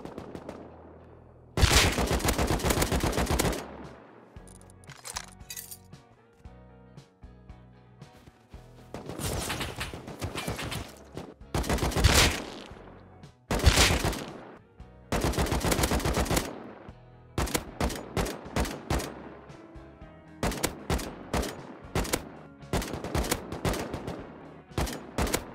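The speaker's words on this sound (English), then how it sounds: "There's AKs outside? I don't like that sound." AK rifle fire in the game Rust, with repeated bursts of automatic gunfire, some long and some short and clipped, loud and sharp, separated by brief quieter gaps, with no voices.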